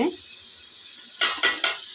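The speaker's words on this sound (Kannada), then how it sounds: "ಒಗ್ಗರಣೆ ಮಾಡ್ತಾಯಿದ್ದೀನಿ" Spices tempering in hot oil in a pan for a home-cooked Budthai (sardine) fish sambar, a steady close sizzle with a few louder crackling bursts toward the end.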